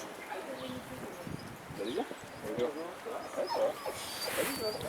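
A sheepdog at a herding demonstration in Rambouillet gives faint yips and whimpers in the open air, while people talk steadily over it and the background noise rises toward the end.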